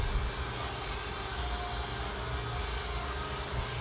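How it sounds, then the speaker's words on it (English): Male crickets in five-week-old breeding bins chirp in a continuous high-pitched trill, steady and moderately close, over faint background hum, with no talking. "if you listen closely, you'll notice that the males are much louder"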